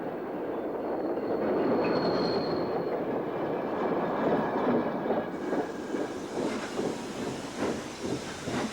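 Model freight train running along a model railway layout, a steady rolling rumble with hiss and faint wheel squeal, continuous and fairly close throughout.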